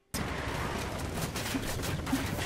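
Gunfire in Ghost Recon Wildlands video game during a vehicle chase, dense rapid shots and bursts rattling continuously after an abrupt start, loud and chaotic.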